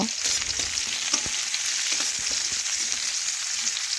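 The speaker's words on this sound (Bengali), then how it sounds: "এখন তেলের মধ্যে নাড়াচাড়া করে পেঁয়াজ একটু আমি ভেজে নেব।" Onions stirred and fried in hot oil in a pan while preparing a Bengali brinjal and small prawn dish, a steady close sizzle with occasional scraping clicks of the spoon, no talking.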